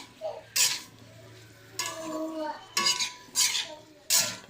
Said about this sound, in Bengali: শাকটা একটু নেড়ে দিই,